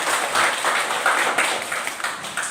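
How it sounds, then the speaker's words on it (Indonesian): Applause from students in a classroom after a group gives its answer, steady mid-sized clapping that holds for a couple of seconds with no voices over it. "kita berikan aplaus dulu buat jawaban"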